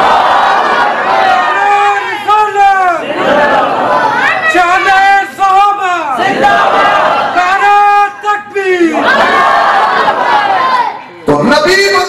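A large religious gathering answers a takbir call, many voices chanting together loudly in repeated waves of rising and falling shouts that fill the space. The response comes in several long swells with short pauses between them.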